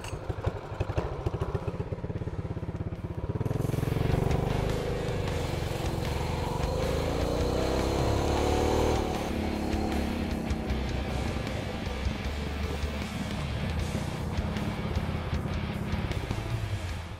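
A Coleman mini bike engine runs hard during a top-speed test, a loud, steady motor drone that revs up and holds with rattling, close and continuous throughout.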